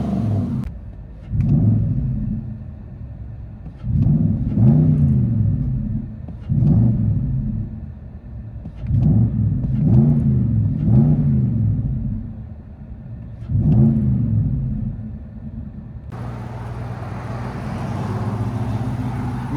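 A 2019 Nissan Titan pickup with a 5.6-liter V8, true dual exhaust and Borla S-Type mufflers, blipped through five or six deep, rumbling revs in steady succession, loud and close, before settling into a hissy idle.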